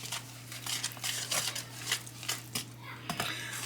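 A whisk stirs brownie batter with three eggs in a mixing bowl, making quick repeated scraping and tapping strokes against the bowl in an uneven rhythm, with a steady low hum underneath.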